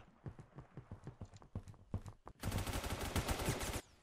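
Gunfire in the Roblox shooter Phantom Forces: scattered single shots and short bursts give way to a loud, dense stretch of rapid automatic fire that cuts off abruptly near the end.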